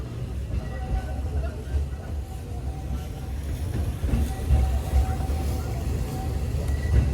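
A Magic Kingdom ride train at Walt Disney World rumbles steadily along with a low, continuous rolling drone and faint rattling, moderately loud throughout.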